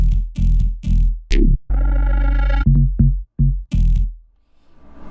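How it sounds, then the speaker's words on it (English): A distorted synth bass from a remix plays a choppy, moving line of short punchy notes and one longer held tone, with gaps of silence between phrases. "So altogether it creates this nice moving bass line."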